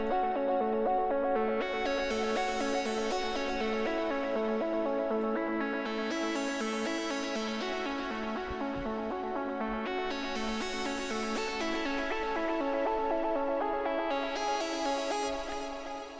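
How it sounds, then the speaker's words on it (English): VK2 synth harp patch playing a simple layered melody with bright plucked attacks that repeat in slow swells, washed in echo and chorus, loud and continuous, with no voices. "there's the VK2 here, which is this kind of nice synth harp"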